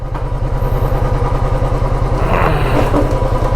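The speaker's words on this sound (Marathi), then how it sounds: "आपण आपली बाईक गरम करायला ठेवूया" A motorcycle engine idles steadily to warm up, a close, loud, even chugging pulse throughout with light mechanical clatter over it.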